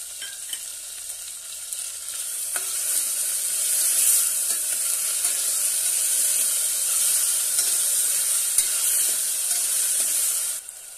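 Chopped tomato sizzling as it goes into frying masala of ginger-garlic paste for rajma pulao, a steady bright hiss with occasional stirring scrapes throughout, close and fairly loud with no talking.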